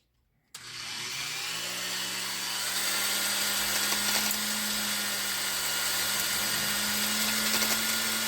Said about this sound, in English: And I can see it turning out as I turn the drill.